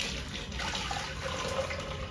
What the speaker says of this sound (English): I am pouring some hot water into the container to make it a hot water bath.